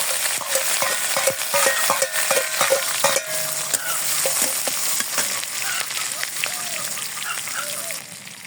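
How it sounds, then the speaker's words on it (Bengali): Green chilies hit hot oil in a village kitchen, a loud crackling sizzle with dense popping and spattering that settles into a steady hiss. "তেল গরম হয়ে গেছে, এখন আমি কাঁচামরিচ দিয়ে দিই।"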